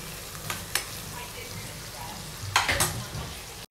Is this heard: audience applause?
no